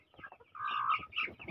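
Chickens cluck and call near coops at a rural house construction site in the Philippines, a short burst of close, loud fowl vocalizations with a rising sustained cluck in the middle and no talking.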